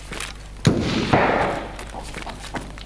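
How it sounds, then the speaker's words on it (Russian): A flashbang grenade detonates in the shooter game Escape from Tarkov: two sharp, close bangs about half a second apart, each trailing into a hissing ring, then a smaller pop near the end. "Флешка ему хорошо дошла."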